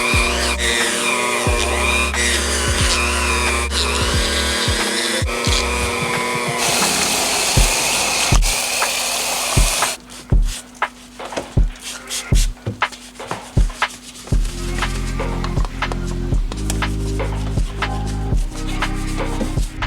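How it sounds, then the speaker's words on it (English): A Dremel-branded rotary tool fitted with a wire wheel on a flexible extension, used to clean filthy Miata 6-speed transmission parts, whirs and scrubs steadily with bursts of scraping rubs, loud and close, no talk. "This is a flexible extension for a rotary tool that's Dremel branded, and I put a wire wheel on it."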